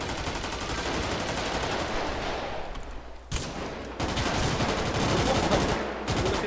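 Rapid bursts of firearm gunfire crackle continuously during a police patrol in Rio de Janeiro, dense and harsh, with a brief pause midway before the volley resumes, loud and close.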